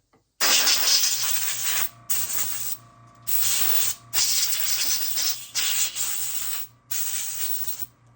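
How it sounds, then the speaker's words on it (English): A blowgun on an air compressor blasts compressed air through an airbrush to clean it, in a series of loud, close hissing bursts separated by brief pauses. "Now I have something called a blowgun here, which is hooked up to my air compressor"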